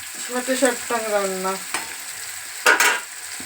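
Potato fries in a pan with onion, green chili and spices, giving a close, lively sizzle with stirring scrapes. A brief tonal squeal rises near the start.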